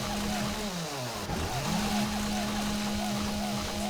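Chainsaw biting into wood in 7 Days to Die, a continuous buzzing engine drone with rising and falling squeaky sweeps that repeat as the blade cuts, loud and constant.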